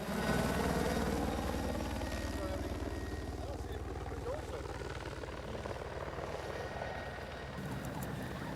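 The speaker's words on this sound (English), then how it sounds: "Speaking of helicopters" A helicopter drones steadily with a rapid rotor chop, fairly distant and constant throughout, with a faint voice underneath at times.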